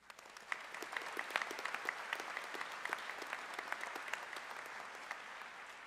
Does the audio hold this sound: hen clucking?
no